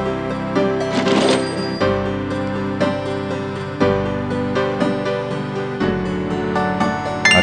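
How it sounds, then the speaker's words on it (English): A cash register drawer is opened in the Gabriel Knight: Sins of the Fathers adventure game, with brief clicks and a clatter near the start over steady background music that continues throughout. "Gabriel opens the cash register to examine the tape"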